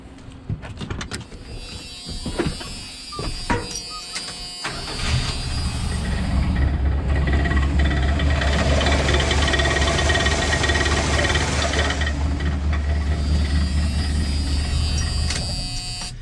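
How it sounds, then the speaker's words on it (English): A 1984 Ram truck engine is started after a few clunks and knocks, then runs with a loud, steady low rumble and a rattling vibration from a wobbling part before cutting off near the end. "I'll just start it up and let you see how that's wobbling"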